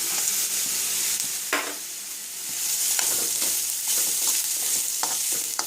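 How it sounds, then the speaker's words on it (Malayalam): Grated coconut and carrot frying in a pan for carrot chammanthi while being stirred, a steady sizzle broken by repeated scraping strokes of a spoon, close and fairly loud, with no speech. "തേങ്ങയും ഒരു ലൈറ്റ് ബ്രൗൺ ആവുന്നവരെ ഒന്ന് ഇളക്കി കൊടുക്കാം."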